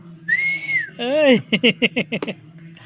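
A person whistles through the lips. First comes a steady held note, then a rising and falling swoop, then a quick run of short chirping notes, all close and loud.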